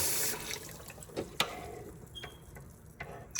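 Cold water runs from a kitchen tap, quiet and close, with a brief gush early on followed by soft splashing and a few clinks as it trickles, with no talking.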